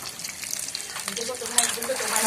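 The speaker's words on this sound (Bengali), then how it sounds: "এই ডিম ভুনা করবে আমাদের বৌদি" Eggs frying and being stirred for egg bhuna at an outdoor picnic cookout, a soft steady sizzle with scraping stirs that grows louder toward the end.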